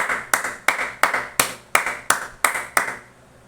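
A single person claps about nine times in a slow, even rhythm, each clap crisp and close, with no voices.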